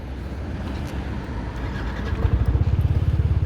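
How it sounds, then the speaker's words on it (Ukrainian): A Yamaha Nmax 155 ABS scooter from Japan on a test ride, its engine humming steadily up close, then growing louder and throbbing in quick pulses toward the end. "перевіримо в ходу цей скутер"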